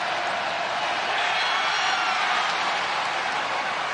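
Broad, steady roar of a college basketball arena crowd cheering at a Baylor versus TCU game, loud and sustained with no break for four seconds.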